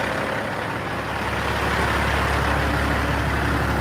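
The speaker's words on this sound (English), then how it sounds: "we're just idling the truck" A truck engine idles with a steady, deep rumble and a constant diesel throb, close and unbroken throughout.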